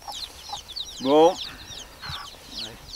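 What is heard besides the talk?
record of hens clucking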